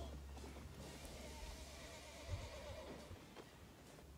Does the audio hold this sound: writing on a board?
no